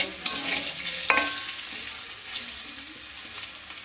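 Potato and eggplant fry in a pan while being stirred, a bright hissing sizzle with a couple of sharp scraping clacks of the utensil, close and steady, no talk.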